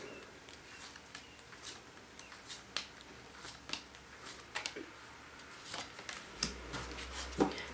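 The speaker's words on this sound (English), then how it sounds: "One more shuffle." Tarot cards being shuffled by hand, a run of soft papery riffles and flicks close to the microphone, fairly quiet, with a low thump near the end.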